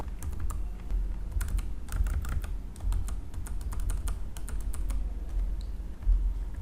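Keyboard shortcuts are typed on a computer keyboard during C++ programming, steady clusters of light close keystroke clicks over a low hum, with no talking.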